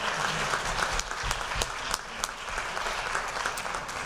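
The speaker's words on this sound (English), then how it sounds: "Patty Steinhoff, so I want to give her a big round of applause as well." Audience applause at a fall sports athletic banquet, a sustained round of many hands clapping in a hall, moderately loud and continuous throughout.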